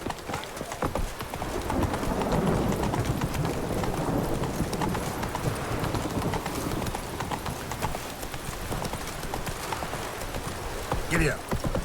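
Horse hooves galloping in The Witcher 3, a fast, continuous clip-clop rhythm with an occasional snort, running under a voice for the whole stretch.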